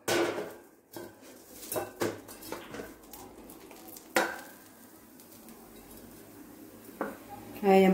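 Kunefe flipped in a pan on the stove, a few scattered metallic clanks and scrapes of utensil against pan over a soft, faint sizzle, with a voice speaking between the knocks.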